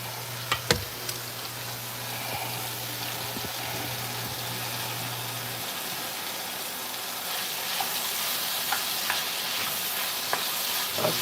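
Mushrooms and onions cook in a pan with a steady broadband sizzle, a low hum through the first half and a few sharp clinks from stirring early on.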